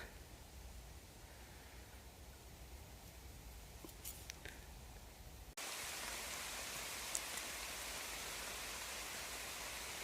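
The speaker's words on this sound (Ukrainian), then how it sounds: "Так, у нас почався дощ." Steady rain hisses down outdoors, a soft even wash that grows louder and denser partway through, with no voices.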